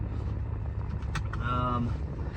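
A white vehicle heading out on a Monday morning drive to Greenville, its cabin filled with a steady low engine and road rumble, and a brief tonal whine rising partway through.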